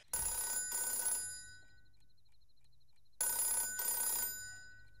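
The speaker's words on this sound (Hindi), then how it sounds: "फोन उठाओ ना। किसका फोन है?" A telephone rings at night in a comedy film scene, two bright electronic bursts of repeated trilling separated by a quiet pause, loud and close with no voices over it.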